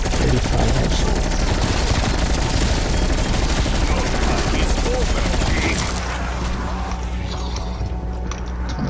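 Dense, continuous automatic gunfire from a zombie-mode shooter video game, loud and unbroken throughout with layered mechanical clatter, easing slightly near the end.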